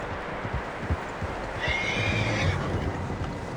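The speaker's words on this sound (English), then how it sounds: "Horses, quite a few of them." Horses in the video game Red Dead Redemption 2 give a clear, moderately close neigh midway, with soft hoof clops and outdoor rumble before it.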